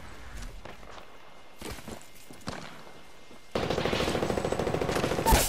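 Gunfire from another team in an online battle game: quiet, scattered early shots, then from about 3.5 seconds a loud, sustained burst of rapid automatic fire with evenly spaced rounds.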